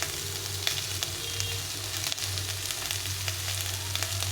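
Spices sizzle and fry steadily in a pan with potatoes and black chickpeas, a continuous close crackling hiss with occasional sharper pops, no voices.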